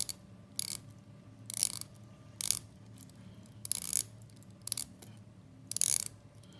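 Faint, close mechanical clicks from a Tag Heuer F1 watch mechanism, arriving in short ratcheting bursts about every second over a quiet background.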